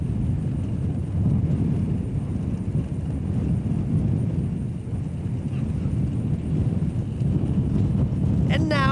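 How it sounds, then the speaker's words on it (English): An A-10 Thunderbolt II Warthog making a pass down the show line at the NAS Oceana Air Show produces a loud, sustained jet roar with broad low rumble throughout. "Major Wilton is now positioning the A-10 for a pass down the show line"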